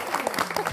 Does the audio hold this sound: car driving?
no